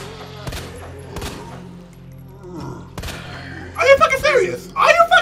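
Gunfire in Resident Evil 2: several sharp, well-spaced shots over a low ambient hum, followed by a louder burst of game sound near the end.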